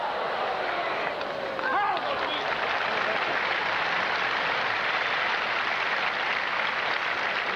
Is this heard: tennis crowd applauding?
yes